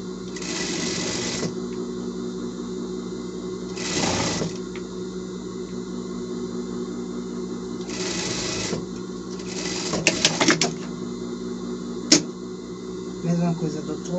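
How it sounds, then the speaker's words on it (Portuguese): A sewing machine stitches elastic on a small summer pet outfit, running in short repeated bursts against a steady background hum, with a voice talking over it and a few sharp clicks near the end. "E vamos vir virando ele aqui e vamos passando uma costura aqui."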